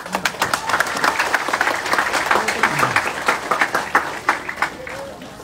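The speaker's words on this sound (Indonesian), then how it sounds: "Tepuk tangan dulu." Audience applause at an Islamic sermon and music gathering at a pesantren, steady clapping from a crowd lasting several seconds with talk and voices mixed in over it.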